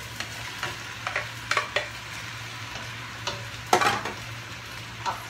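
Pig intestines sizzle in a pot for a dinuguan stew, a steady frying hiss broken by scrapes and clinks of a spoon stirring at irregular intervals, close by.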